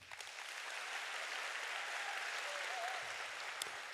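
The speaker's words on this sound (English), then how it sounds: "Applause, please." An audience at a coaching summit breaks into applause, a soft, distant, even patter of clapping that holds steady across the moment with little voice over it.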